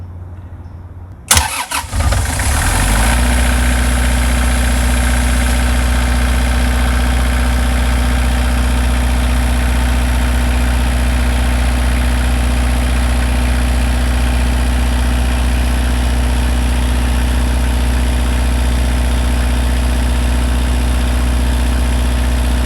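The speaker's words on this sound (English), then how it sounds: "And it may be a little noisier sounding because I don't have the airbags for the generator aired up." Turbo-charged 20K watt generator on a Prevost bus, mounted on unaired isolation airbags, cranks over in a short burst and then drones loud, deep and steady right beside the listener, with no talk.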